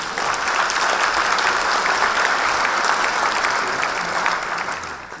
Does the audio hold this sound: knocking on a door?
no